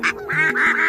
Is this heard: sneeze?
no